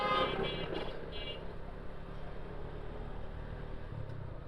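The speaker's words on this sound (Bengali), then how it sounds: "পিছন থেকে আবার কার এসে হর্ন দিচ্ছে" A car horn sounds from behind on a busy street at the old Chuadanga bus stand in Jhenaidah, with a few short toots early on over steady traffic rumble and engine noise.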